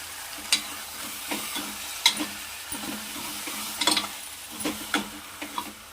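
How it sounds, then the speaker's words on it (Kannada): Brinjal (eggplant) frying in oil and being stirred in a pan: a soft, steady sizzle broken by repeated sharp scrapes and clicks of the spoon against the pan. "ಬದನೆಕಾಯಿ ಸೇರಿಸ್ಕೊಂಡು ಸ್ವಲ್ಪ ಚೆನ್ನಾಗಿ ಫ್ರೈ ಮಾಡ್ಕೊಳ್ಳೋಣ"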